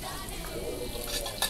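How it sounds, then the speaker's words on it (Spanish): Onion frying in a pan for chanfaina, a low steady sizzle with light stirring and a faint clink of utensil on metal near the end, close and quiet with no talking. "Le echamos la cebolla."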